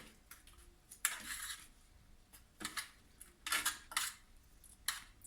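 Roasted vegetables flipped on an oven tray with a metal utensil, giving a handful of sharp scraping clicks and clinks in irregular bursts, close and fairly quiet, with no talking.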